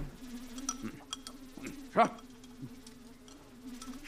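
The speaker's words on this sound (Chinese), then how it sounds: "大冬天的，这哪来的苍蝇啊？" A housefly buzzes indoors in a winter-set costume drama scene, a steady droning hum that stays close throughout. One brief spoken word is heard midway.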